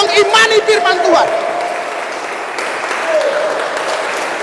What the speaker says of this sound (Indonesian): Berikan sorak-sorai buat Tuhan kita yang luar biasa.